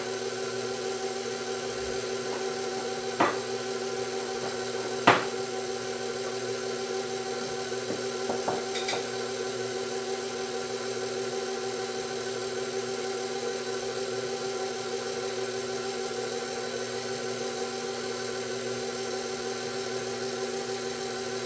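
A mixer beats pound cake batter for a confetti rainbow pound cake in first gear, giving a steady, even motor hum throughout, with a couple of faint clicks early on.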